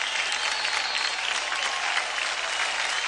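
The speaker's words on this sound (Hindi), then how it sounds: "जोरदार तालियां जय के लिए।" Studio audience at a dance competition grand finale applauding dancer Jay, a dense, bright wash of clapping that stays loud and even from start to finish.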